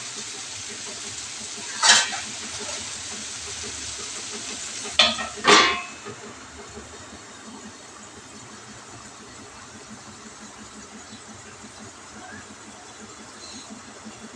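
Ingredients for a prawn chutney fry in a pan with a soft, steady sizzle, broken by a few sharp clatters of utensils early on and a fainter hiss afterward.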